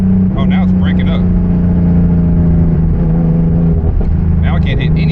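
A turbocharged BMW E36 engine runs loud and rough under throttle, its steady drone stumbling and breaking up in uneven bursts, with someone talking over it.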